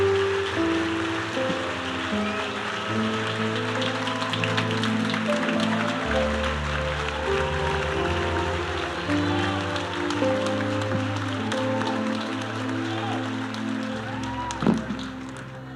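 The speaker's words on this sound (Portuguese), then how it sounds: "Dá uma salva de palmas para esse jovem" A church congregation applauds a young man during a Wednesday evening service, sustained clapping spread across the room over steady keyboard or organ chords that carry on throughout.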